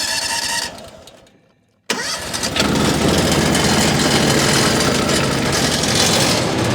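A Mechmaxx DCH7 wood chipper engine runs, cuts out briefly into near silence, then fires up abruptly and settles into a loud, steady, rough running roar close by.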